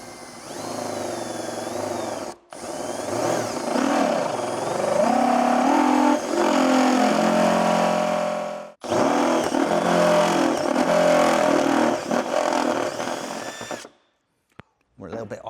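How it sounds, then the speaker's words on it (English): A step drill bit bores out a hole in the rear body metal of a first-generation Toyota GR Yaris, whining loudly in long sustained runs with two brief pauses before cutting off near the end. "I'm going to use a step drill bit here just to enlarge this hole out to 24 millimeters."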